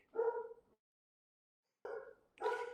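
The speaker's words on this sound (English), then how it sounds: "now my dog's barking" A dog barks a couple of times in short, harmonic bursts separated by a gap of quiet, fairly close by.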